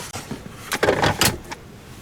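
Rear seat of a 2020 Ford F250 being pushed forward and folded flat: a close, short sequence of mechanical clunks and sliding thumps, two louder knocks toward the end, no talking.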